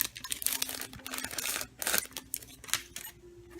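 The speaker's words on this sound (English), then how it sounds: "I'm going to use the Big Shot to cut these out." Sizzix Big Shot die-cutting machine cutting paper letters for Christmas ornaments, a faint, close run of crinkling, crunching and clicking with a low hum under it, in short uneven bursts.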